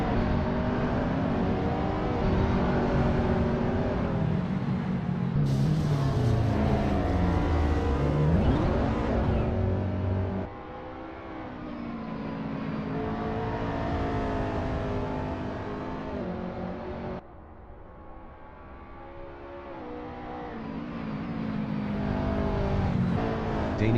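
McLaren MP4-12C GT race car engine in the Assetto Corsa racing game, loud and close throughout, with sustained revving, upshifts and pitch sweeps, and sudden drops in level as the car changes speed or camera.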